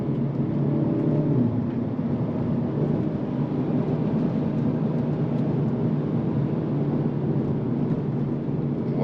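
A 2022 Hyundai Elantra N taking turns at about 40 mph, heard from the cabin as a steady, loud drone of engine and road noise with no talking.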